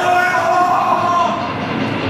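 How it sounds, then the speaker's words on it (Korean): A train passes with a steady, continuous rumble and rolling drone held at even loudness, with some tonal hum over broad noise and no voices. "보세요! 기차 나와요!"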